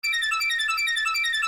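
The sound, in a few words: stretched arpeggiated synth melody pitched up two octaves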